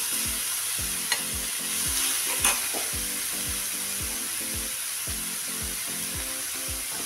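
Water hitting a hot pan while cooking homemade steamed momos gives a steady, loud sizzle and hiss throughout, with a regular low thumping pulse running underneath and a couple of brief clatters.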